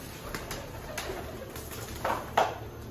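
A pigeon being caught coos softly a few times at night, faint and close, with light rustling around it.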